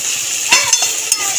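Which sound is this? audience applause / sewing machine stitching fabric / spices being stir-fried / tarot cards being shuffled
spices being stir-fried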